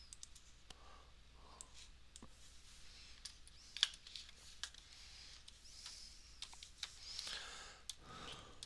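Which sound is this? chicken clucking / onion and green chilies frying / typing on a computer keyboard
typing on a computer keyboard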